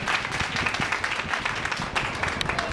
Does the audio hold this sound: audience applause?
yes